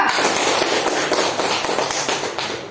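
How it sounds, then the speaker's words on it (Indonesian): A classroom of students applauds a group at an Indonesian college, making dense, steady clapping that fills the whole short stretch with no voices over it. "kasih aplaus untuk kelompok 2"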